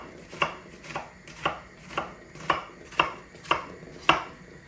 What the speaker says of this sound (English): So, when you're finely dicing an onion, what you want to do is just cut almost all the way through the onion.